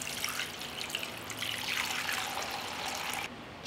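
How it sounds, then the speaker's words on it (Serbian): Water pours steadily into a cooking pot lined with a cloth and holding jars ready for pasteurizing, a continuous close splashing trickle with no talk that stops abruptly near the end. "Sipat ću vodu u šerpu."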